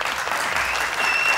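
Studio audience applauding on an Afghan Family Feud–style game show, a steady dense wash of clapping that fills the short moment on its own.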